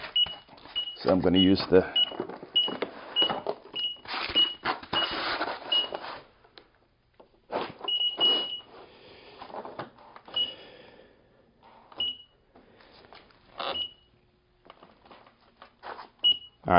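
Short electronic beeps from a KS16x electric unicycle repeat at irregular intervals during a firmware update, some in quick pairs, mixed with clicks, rustling handling noise and a brief spoken phrase.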